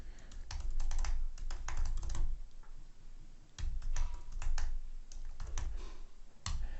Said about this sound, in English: I'm typing into the chat right now for you.